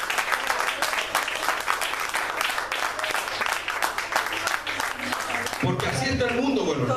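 A church congregation gives sustained, dense applause through most of the stretch, loud and close, with crowd voices rising near the end.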